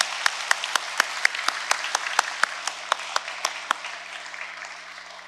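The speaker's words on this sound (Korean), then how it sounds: "우리 고등학교 교직원들과 학생들에게도 우리 감사의 표시로 박수 한번 치겠습니다" Congregation in a church service applauding high school staff and students, a slow, evenly spaced clapping rhythm with sharp individual claps standing out, fading toward the end, no talking over it.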